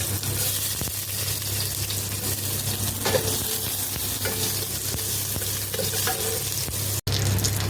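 Ginger and garlic sautéing in olive oil, a steady, close, dense sizzle of frying throughout with faint stirring scrapes and a low hum underneath.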